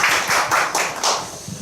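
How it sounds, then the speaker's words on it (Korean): Congregation applause at a Korean church worship service, a short burst of brisk hand clapping with several distinct claps, fairly close and loud. "우리 박수 한번"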